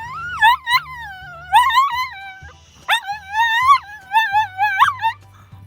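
A small, puppy-like dog whimpers and yips in a run of high, wavering cries with brief pauses between them, close and fairly loud, with no talking.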